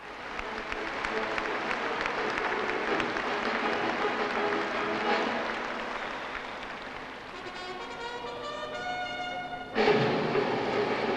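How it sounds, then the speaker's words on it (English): Large arena audience at the Royal Tournament breaks into sustained applause after a military display, a broad steady roar of clapping that swells and then fades, ending in a brief sharp burst. "Well-deserved applause for a magnificent display of discipline and timing."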